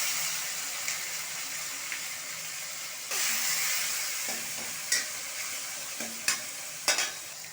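Chopped tomato sizzles in a pan with cumin and whole spices, scraped and stirred now and then, with a louder burst of frying partway through and a few sharp clinks of a spoon near the end.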